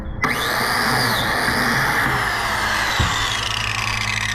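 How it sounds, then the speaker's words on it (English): A handheld biscuit joiner runs as its small plunging saw blade cuts a slot into the edge of Trex composite decking to take a hidden fastener. A steady, loud motor whine holds across the clip with no talk. "Now what I'm going to use is a biscuit joiner."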